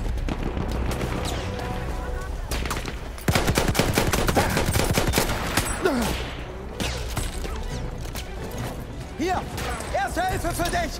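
A Rigotti rifle in Battlefield 1 fires rapid loud cracking bursts in close-range combat amid explosions and other battle noise, while a voice talks over the fighting.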